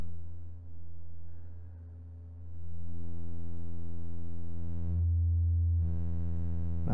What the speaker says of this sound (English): If we slew limit it, it starts to become basically a saw.